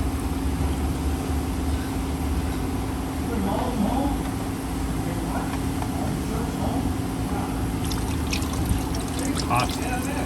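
Used motor oil drains from a car's drain plug into a catch pan in a repair shop, a steady close pouring trickle running throughout.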